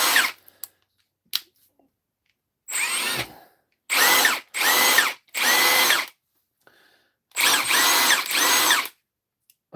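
Brushless Milwaukee Fuel impact driver being tested on a repair bench, running in about six loud bursts of one to two seconds each with short gaps between, plus a few faint clicks and no talking.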